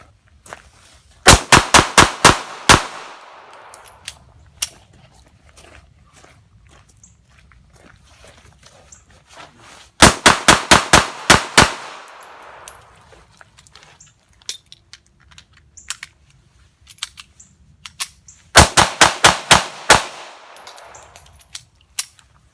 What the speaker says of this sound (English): So anyways, I'm going to do some more shooting.